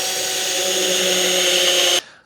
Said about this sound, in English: you want to drill a pilot hole and make sure it goes all the way through this block and all the way through the shelf also.